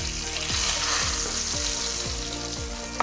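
Stuffed bitter gourd frying in a pan with a steady, fairly loud sizzle, while a utensil stirs and scrapes against it in several regular strokes, with no talking.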